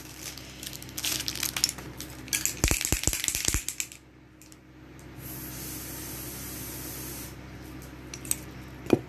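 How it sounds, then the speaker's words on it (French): Foundation spray is misted onto a face in a steady hiss lasting a few seconds, preceded by rustling, clicking cosmetic handling. "Je vais mettre ce fond de teint spray"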